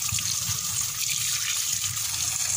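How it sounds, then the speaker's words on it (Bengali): Running water pours steadily over potatoes and onions as they are rinsed in a kitchen, an unbroken close splashing gush with no voices. "আর একটু জল দিয়ে ধুয়ে নিচ্ছি"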